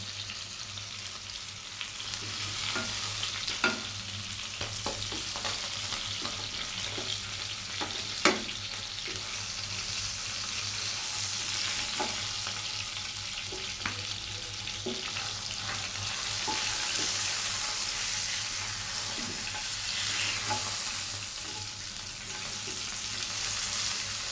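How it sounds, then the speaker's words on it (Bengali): Pangas fish fillets sizzling steadily in hot oil as they are lifted out of the pan, a continuous close frying hiss with occasional clicks and scrapes of a utensil. "আমার মাছগুলো ভাজা হয়ে গেছে, এখন আমি মাছগুলোকে তুলে নিচ্ছি"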